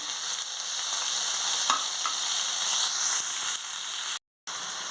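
Steady, loud sizzling and crackling of an onion, tomato, green chilli and garlic paste frying in hot oil, continuous throughout with a brief silent gap near the end.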